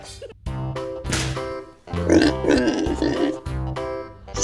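A toy pig squeaks out a series of harmonic oinks and grunts, fairly loud and close, with a short pause before a busier burst of noisy snorts.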